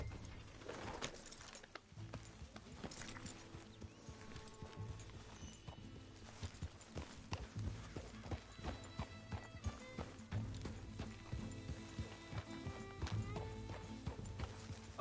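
Horse hooves clip-clop in a steady rhythm through a Red Dead Redemption game scene, accompanied by faint birdsong and pigeon-like cooing in the background, moderately close and quiet overall.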